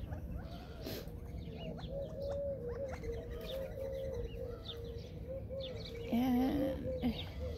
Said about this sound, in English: Morning doves.